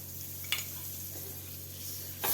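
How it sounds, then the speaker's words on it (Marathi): Butter melting on a hot dosa tava while making an avocado toast sandwich, a soft, steady sizzle with a few faint scraping and clinking touches. "आता यावर आपल्याला बटर घालायचं आहे."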